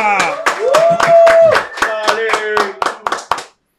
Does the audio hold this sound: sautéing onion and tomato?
no